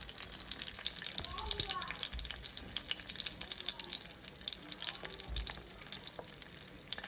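A steady, dense sizzle of white perch frying in a pan, continuous and close for the whole stretch, with a few low thumps and clatters from handling the fish.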